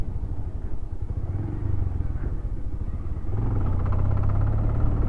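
A motorcycle rides along a rural road past cattle, its engine a steady close rumble that grows slightly louder and fuller partway through, with no talking over it.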